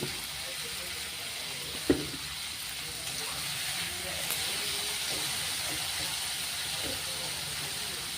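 Spices with salt and turmeric frying in a pan for kachori sabji, a soft steady hiss with a sharp utensil knock and a few light scrapes, while a person talks.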